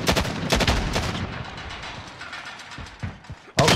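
Gunfire in a shooter video game, a dense rapid burst of close loud shots fading into reverberant rumble, then another sharp shot at the end.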